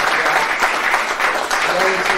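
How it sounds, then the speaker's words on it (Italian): Audience applause fills a conference hall at a vineyard-and-landscape convention, a steady dense patter of clapping held at even loudness throughout, with some voices mixed in. "Quindi applaudiamo davvero in modo particolare."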